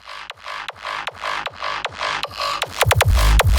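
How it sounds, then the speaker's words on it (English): Pre-drop build-up in a hardstyle remix: a steady run of kicks with bright noisy wash between hits, accelerating into rapid stuttering hits and a swelling heavy bass at the end, loud and driving, no voices. "Same for the pre-drop, which sound like this"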